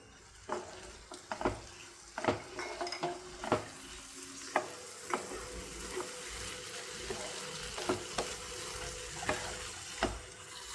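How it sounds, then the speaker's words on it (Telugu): Ground masala paste is stirred into a drumstick gravy in a pan, with quiet scattered scrapes and clicks of a spoon over a soft, low simmering hiss, with no talking. "వేసేసుకుని ఒకసారి కలిపేసుకుందాం."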